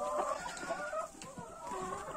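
Hens and a rooster cluck and murmur in a henhouse, a busy overlapping chorus of short calls at close range with a faint background hum.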